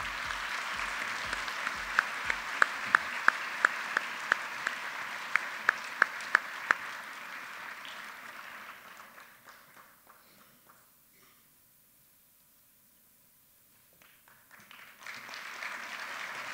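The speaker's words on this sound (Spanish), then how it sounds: "Un aplauso, por favor, para el doctor Carlos." Audience applause at an award ceremony honoring a doctor, a moderate, steady patter of clapping with a few sharp louder claps, fading out to near silence before a fresh round swells again at the end.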